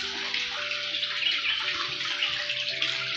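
Hot spring water at Unhavare near Dapoli flows steadily down from a bathing pool in a continuous close splashing rush, like a filling tub, with no talk over it.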